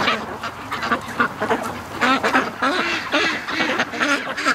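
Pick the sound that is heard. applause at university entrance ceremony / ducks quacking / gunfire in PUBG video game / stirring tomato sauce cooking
ducks quacking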